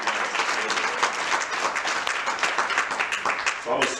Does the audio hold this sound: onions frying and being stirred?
no